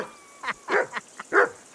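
A dog in the medieval game Kingdom Come: Deliverance II lets out a quick series of about five short, close barks and yips, unevenly spaced over a quiet background.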